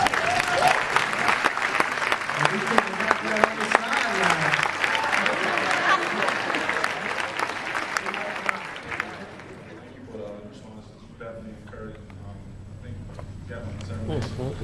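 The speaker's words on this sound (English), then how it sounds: "Everybody give Chris a round of applause." Loud applause with scattered cheers at an entrepreneur mentoring event, fading after several seconds into quieter murmuring and a few voices.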